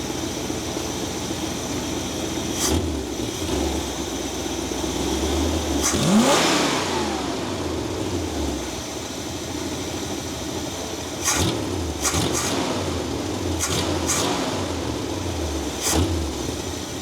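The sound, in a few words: 1964 Mustang engine running and revving after carburetor swap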